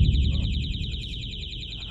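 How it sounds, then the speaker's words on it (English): Vibration alarm device in an old, spooky room in Gettysburg, giving a loud, steady pulsing electronic buzz with a wavering high tone, continuous over a low rumble. "Watch out, you got the vibration alarm down there."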